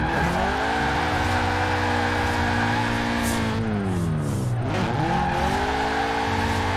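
Car drifting in Forza Horizon 4, a steady engine drone under long tire squeal, with pitch sweeps as the car slides and recovers; no talking.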